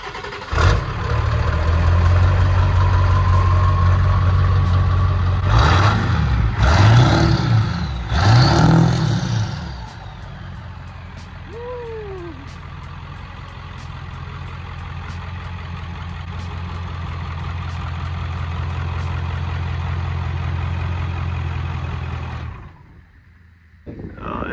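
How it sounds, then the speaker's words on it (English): A 1997 Ford F-350 PowerStroke diesel crew cab long bed 4x4 pickup idles with a deep, steady low rumble, briefly revving a few times near the start before settling back to a loud, even idle that cuts off near the end. "He already got to fire it up, gave it a little rev."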